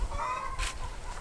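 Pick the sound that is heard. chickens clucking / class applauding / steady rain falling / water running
chickens clucking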